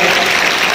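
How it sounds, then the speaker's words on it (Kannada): A school farewell crowd claps loudly together, a dense, sustained burst of applause close by with no pause in this brief moment. "ಜೋರಾದ ಚಪ್ಪಾಳೆ"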